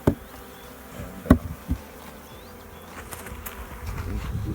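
Bees buzzing inside a bee vacuum during a bee removal job, a faint, continuous insect drone with a few sharp knocks and thumps from the equipment early on, and no talking.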